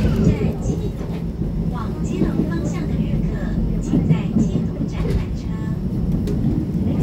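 A ten-car silver-green EMU900 commuter train pulls out of Beihu bound for Keelung on the Western Line, its steady low rumble running continuously, with a voice talking over it.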